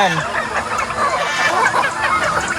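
Chickens and turkeys feeding together in a backyard flock, giving a steady mix of soft clucks and honking fowl calls over a busy outdoor background, with no talk.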